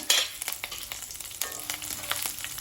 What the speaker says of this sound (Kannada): ಇದನ್ನು ಸ್ವಲ್ಪ ಫ್ರೈ ಮಾಡ್ಕೊಳ್ಬೇಕು